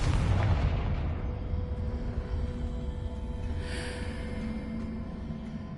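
Confringo fire-blast spell cast in Hogwarts Legacy on PS5, a loud booming burst at the start that rumbles and trails off into a sustained low roar with a brief crackling flare partway through.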